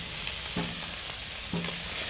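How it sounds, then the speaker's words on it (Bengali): Shrimp fry in a pan with chopped onion and chili, a continuous close sizzle broken by two brief stirring scrapes. "পেঁয়াজ লঙ্কাটা একটু চিংড়ি মাছের সঙ্গে ভেজে নেব"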